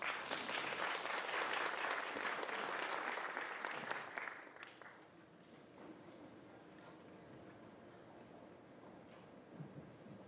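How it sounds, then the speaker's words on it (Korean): An audience at a village education community forum in Seocheon warmly applauds to welcome a keynote speaker. The clapping is dense and strong for about four seconds, then thins into scattered, quieter claps. "오늘 먼저 작은 학교가 희망이다라는 주제로 기조 강연을 해주실 전주교대 이동성 교수님을 따뜻한 박수로 맞아주시기 바랍니다"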